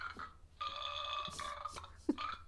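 A burp breaks into a song, with a guttural belch and tonal, sung or ringing sounds around it at close range in a quiet room.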